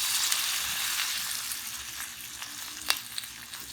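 Water lily flower pakoras dropped into hot oil, crackling with a bright, continuous sizzle close up, a few sharper pops standing out near the end, no voices.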